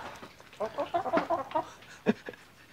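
Backyard chickens cluck busily while gobbling soldier fly larvae treats, a close run of short, rhythmic clucks in quick succession followed by a few sharper, louder squawks.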